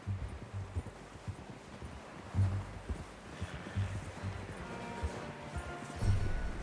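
A horse in the Red Dead Redemption 2 video game walks with soft, irregular hoof clops on a dirt trail. Faint rustling and ambient outdoor noise sit beneath the hooves, heard at moderate distance.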